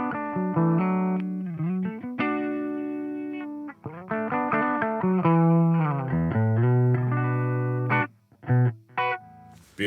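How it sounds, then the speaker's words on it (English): Clean electric guitar tone from the bridge pickup of a Vander guitar, played close as a melodic run of single notes and chords with brief pauses, alone without any talking. "So the clean tone on the Vander guitars, it sounds like this on the bridge pickup."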